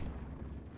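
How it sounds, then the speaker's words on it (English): A deep, rumbling rocket launcher explosion in the mobile shooter COD Mobile, a brief low boom filling the moment at moderate loudness with no voices. "Look at this rocket launcher"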